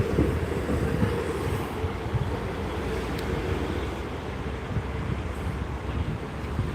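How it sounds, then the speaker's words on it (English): Class 158 diesel train arriving fast at Gloucester station, a continuous loud rumble and rushing roar of wheels and air, with wind buffeting the microphone throughout. "The train was rolling in fast."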